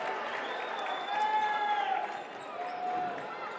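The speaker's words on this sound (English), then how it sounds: "Get the big applause, slight applause for Cooper." Light crowd applause and murmuring in a basketball gym during a game, with a whistle and shoe squeaks over it, moderately distant and modest in volume.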